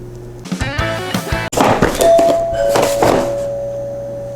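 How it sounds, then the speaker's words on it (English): A household doorbell rings loud and near, with a sharp chime, a thunk, then a lingering tone that slowly fades, with no talk. "whoever just rang the doorbell during our very important Christmas on Crestline episode"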